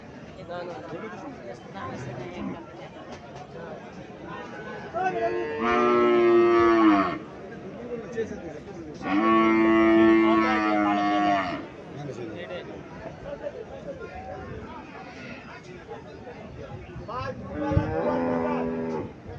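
Holstein Friesian dairy cows at the Mirshanni cattle market in Comilla, with three loud, drawn-out moos rising over a murmuring crowd and nearby talking voices.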